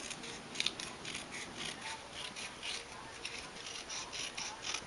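Scissors trimming craft material for a haunted wreath along a scored line, a quick run of close, crisp snips repeating rhythmically, fairly quiet and with no talking.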